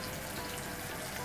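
Pieces of pointed gourd (potol) frying in a pan: a steady, dense sizzle and crackle of hot oil, close and continuous, with no talking.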